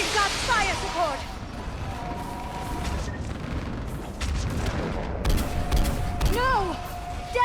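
Sustained gunfire and explosive booms of fire support in the Mass Effect 3 battle on Thessia, a dense, continuous barrage with bursts and whooshing effects, under brief shouted voices.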